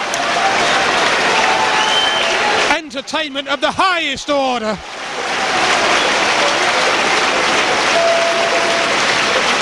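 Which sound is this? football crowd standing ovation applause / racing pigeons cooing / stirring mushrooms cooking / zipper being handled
football crowd standing ovation applause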